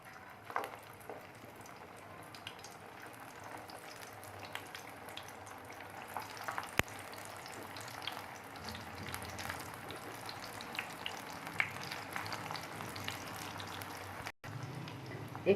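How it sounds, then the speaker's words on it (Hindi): Chicken and potato kebabs fry in hot oil, a quiet, continuous bubbling crackle with faint scattered pops that stays low and even throughout. "ऑयल गर्म हो चुका है और मैं डालती हूँ इसमें कबाब।"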